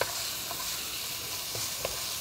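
Meat searing in a pan during a cooking workshop, turning golden brown, with a steady loud hiss of frying and a few soft stirring scrapes, no talk.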